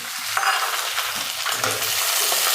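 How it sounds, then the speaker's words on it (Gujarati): Peanuts and green onions frying in hot oil in a pan for Gujarati kanda poha, a steady loud sizzle with stirring scrapes, close up and with no voices. "તેલ આપણું ગરમ થઈ ગયું છે, એમાં આપણે 1 બાઉલ સિંગદાણા નાખી દઈશું।"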